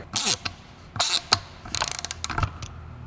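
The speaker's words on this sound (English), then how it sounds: "You're gonna need a 14 millimeter deep socket. I'll get you right on there." A ratchet driving a 14 millimeter deep socket on a street sweeper, with a few quick bursts of clicking followed by a rapid series of crisp pawl ticks, close and clear.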